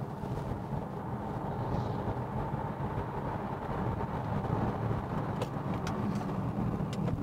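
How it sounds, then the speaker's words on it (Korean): A DS E-Tense electric car with a single-speed reduction gear accelerates smoothly, giving a steady low road and cabin rumble with no gear changes and a few faint clicks toward the end. "1단 감속 기어라는 걸 쓰고 있는데요, 꽤 부드럽게 가속합니다."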